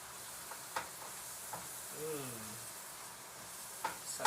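Ground beef and sausage frying with mushrooms, onions and seasonings, a faint steady sizzle with a few light stirring clicks and a brief voice in the middle.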